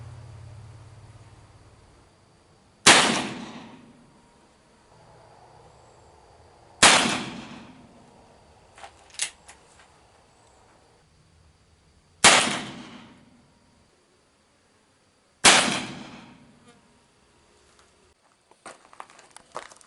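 Four sharp, loud shots from an Uberti Walker revolver fitted with a conversion cylinder, spaced a few seconds apart, each followed by a short ringing decay and some faint handling clatter.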